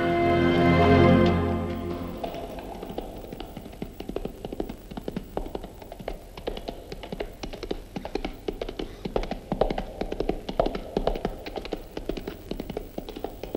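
Horse galloping, a rapid, even patter of hoofbeats running steadily for over ten seconds, moderately loud, after a brief shout at the start.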